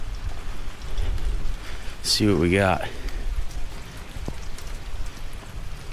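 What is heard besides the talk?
rain falling outdoors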